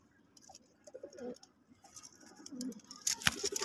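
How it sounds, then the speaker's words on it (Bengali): Pigeons in a loft coo softly in low, rounded calls, with faint shuffling and wing patter close by and a sharper rustle near the end. "দেখেন সুইট একটা মাদি কবুতর,"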